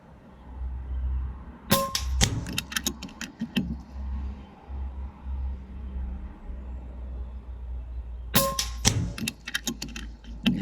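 Shots fired at reactive target stickers at home, two clusters of sharp snapping reports a few seconds apart, close and fairly loud over a low background hum.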